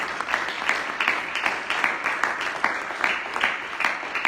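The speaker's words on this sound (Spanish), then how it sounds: "Dele un aplauso al Señor. Give the Lord a hand of praise." Applause from a church congregation giving praise rises and falls in quick rhythmic bursts, moderately distant and fairly quiet, with no talk over it.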